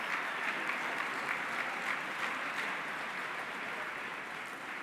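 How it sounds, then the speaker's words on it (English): A concert audience applauds a school 11-12 orchestra and its conductor at an all-county band concert, a soft, distant, sustained patter of clapping in an auditorium that tapers slightly near the end. "Another round of applause for Dr. Ross and the wonderful 11-12 Orchestra"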